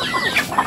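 Chickens cluck loudly and close by in a pen at afternoon feeding time, several short overlapping calls in a brief burst.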